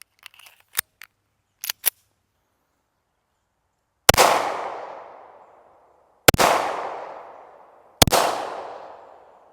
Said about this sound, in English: we're just going to do a little bit of shooting